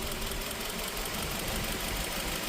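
A Nissan X-Trail engine idles with a cylinder 2 ignition misfire, giving a steady, close mechanical rumble with an uneven knocking pulse, no voices.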